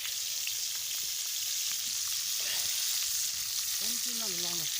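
Fish frying in a pan outdoors, a continuous close sizzle and crackle with occasional stirring scrapes, faint voices underneath.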